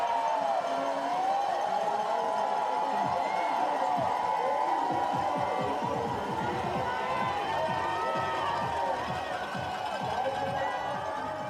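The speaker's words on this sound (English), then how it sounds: "Ski fans generating so much noise, probably hard to hear yourself even think amongst the cheering." Crowd of ski fans cheering at a cross-country ski race, the women's 20 km mass start in Lake Placid; dense, steady roar with rising whoops, and a commentator talking over it.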